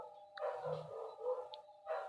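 Dogs bark and howl in a faint, distant chorus, with several overlapping yelps and drawn-out howls rising and falling over a couple of seconds, with no talk.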